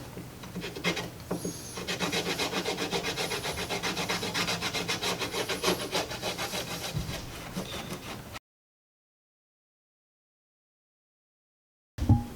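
A credit card scrapes and rubs grime off the lens of a Chevrolet Camaro's third brake light: steady, close, gritty scraping strokes for about eight seconds, then silence and a brief final rub.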